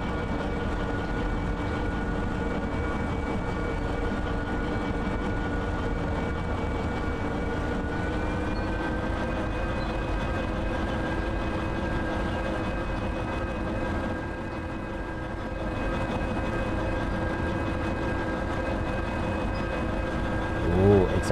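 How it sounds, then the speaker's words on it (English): An ST44 diesel locomotive in the train game Derail Valley rumbles on continuously, a loud, steady engine drone with sustained tonal hum and little change throughout. "It's a very loud locomotive."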